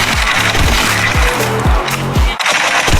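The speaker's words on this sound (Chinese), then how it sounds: "不然我就开枪了" Gunfire in an animated action scene set during a subway escape: a rapid run of loud, punchy shots repeating in a steady rhythm, close and dominant, with no speech.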